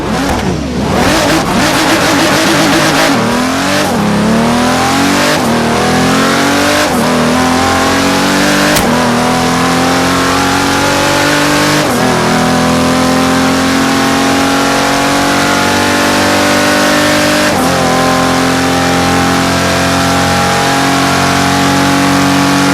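A Ferrari LaFerrari and a Pagani Huayra BC race on a track in Forza Horizon 3, loud engines revving hard through repeated gear shifts, each upshift dropping the pitch before it climbs again, with no talk.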